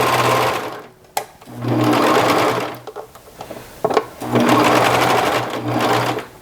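A sewing machine stitches thin, drapey knit fabric for a T-shirt in three loud, close bursts of fast, steady needle strokes, separated by short pauses with clicks and handling noise.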